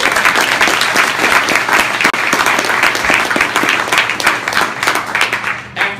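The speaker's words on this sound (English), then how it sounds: "Round of applause for Zillow." Sustained audience applause at the close of a Python user group meeting hosted at Zillow, dense steady clapping from a room full of people, loud and continuous, tapering slightly near the end.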